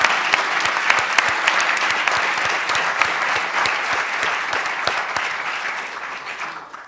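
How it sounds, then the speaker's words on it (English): An audience applauds panelists after a lecture with dense, sustained clapping that gradually fades out at the end. "Let's give our amazing panelists another round of applause."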